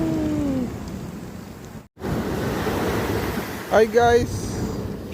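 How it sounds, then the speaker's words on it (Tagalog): Strong ocean waves at Baler give a broad, steady roar of surf close by, with a brief dropout and a voice greeting over the rushing water. "ang lakas ng alon dito"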